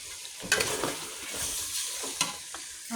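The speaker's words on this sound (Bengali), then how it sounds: "এখন আমি খাসির মাংস রান্না করতেছি" Mutton (goat meat) cooking in a pan, with a steady close sizzle and the scrape of stirring, a couple of sharper clinks from utensil against the pan.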